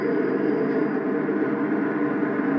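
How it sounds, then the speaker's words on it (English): A steady, droning rumble of a Lionel model diesel locomotive's prime mover sound idling, constant and fairly loud with no other sounds. "The big Lionel prime mover sounds."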